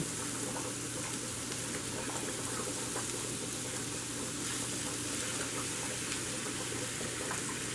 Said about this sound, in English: That's frying.